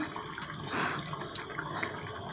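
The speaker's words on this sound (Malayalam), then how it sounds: "ആവശ്യത്തിനുള്ള വെള്ളം ചേർത്ത് കൊടുക്കുക" Water splashes and gurgles into a pan of chicken curry in a short pour that swells then tapers, followed by a few soft drips and clinks.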